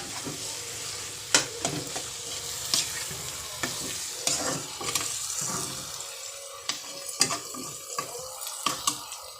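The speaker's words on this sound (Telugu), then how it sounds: "కారం కూర పొడి శనగపిండి అన్నీ కలిసేటట్టు తిప్పుకోవాలి" Capsicum curry with chili powder, curry powder and gram flour is stirred in a frying pan, a spoon scraping in repeated strokes over a steady low sizzle, alone with no talking.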